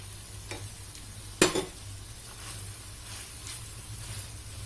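A spoon stirs potatoes into chicken curry in a pan, with a low sizzle throughout and one sharp scrape-clatter of utensil on pan, quiet and close with no talk.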